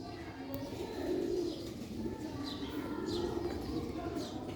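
Pigeons coo softly in a rooftop loft of old pure Sialkoti birds, low murmuring calls repeating steadily against a constant background hum, with faint higher chirps in the distance.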